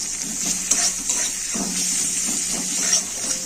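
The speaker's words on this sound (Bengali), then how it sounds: "পেঁয়াজটা ভেজে নেবো" Onions fry in a kadai with a steady, close sizzling hiss, broken by occasional scrapes and clinks of stirring.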